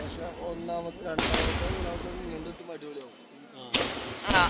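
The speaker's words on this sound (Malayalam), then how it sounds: "ഇതാ കണ്ണങ്കാവ് മുക്കുത്തല അമ്പലത്തിലെ വെടിക്കെട്ടാണ്" Temple festival fireworks at the Kannengav Mookkuthala Bhagavathi temple utsavam, with sharp loud bangs bursting at intervals amid a noisy crowd, under steady talk.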